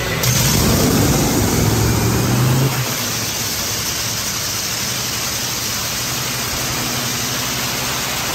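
A nitro engine is started with fuel pump lever in use, producing a loud rough buzzing burst for a few seconds, then dropping to a steady lower noisy hum.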